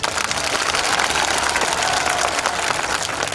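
A crowd at a political rally in Nonagir, Sagar claps loudly and continuously, a dense unbroken wash of applause close by with no pause.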